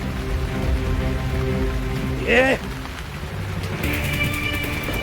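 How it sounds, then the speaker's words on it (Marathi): Heavy rain hisses steadily throughout, with a brief sliding whistle-like tone in the middle and a brighter patch of sound near the end. "तेव्हाच पावसाचा जोर वाढतोय"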